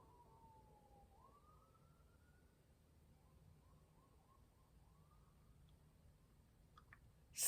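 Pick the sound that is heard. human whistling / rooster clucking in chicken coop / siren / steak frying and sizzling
siren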